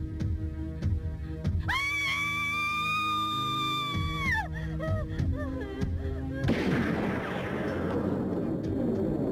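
Gunshots in a 1994 Jet Li action film, heard as scattered sharp reports within a dense, loud movie soundtrack that carries a sustained ringing tone and then a harsh burst of noise.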